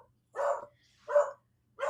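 A dog barks three times in an even rhythm, moderately close and fairly quiet, with short silent gaps between the barks and no other sound.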